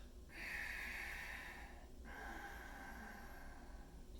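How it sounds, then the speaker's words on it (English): Two long, forceful exhalations through the nose, hissing and breathy, close up and fairly quiet, separated by a brief inhale. "instead of breathing out through your mouth, you breathe out through your nose"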